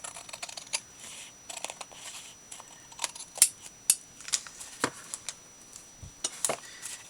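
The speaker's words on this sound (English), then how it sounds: "But I do want to trim it up just a little bit because I see some raw edges sticking up" Scissors trim the raw edges off a handmade Christmas ornament, giving a run of small, close, irregular snips and clicks, some sharper than others, with no one talking.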